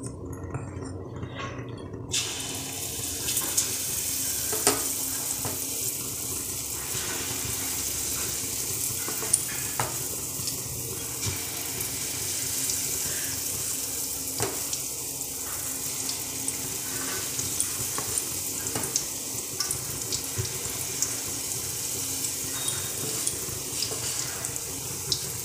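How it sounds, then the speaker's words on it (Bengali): Moong dal fritters fry in hot oil in a pan with a steady, moderate sizzle that runs throughout, broken by occasional light clinks and stirring sounds, and no one talks. "এবারে আমরা সব বড়াগুলো ভেজে নেব"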